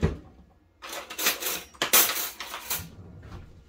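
A traditional Russian spoon clatters and scrapes against a dish while buckwheat is being washed, giving several close, bright bursts of metal-on-crockery clinks with short pauses between them.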